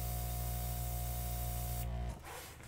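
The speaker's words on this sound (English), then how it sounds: "This is just a little handheld compressor that I bought just for this purpose" A small handheld airbrush compressor, used for acrylic pour painting, pushes out a loud continuous hiss of air with a humming motor tone, then cuts off abruptly near the end.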